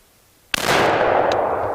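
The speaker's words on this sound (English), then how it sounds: "Let's shoot that other one." A single loud, close rifle shot from a Savage 99EG chambered in .300 Savage cracks sharply, then a long echoing rumble decays outdoors. No voices are heard.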